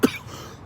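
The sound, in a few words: cough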